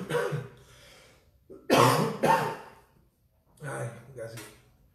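A person coughs and clears their throat in a few short, harsh bursts separated by brief pauses, close and fairly loud, with a bit of speech mixed in.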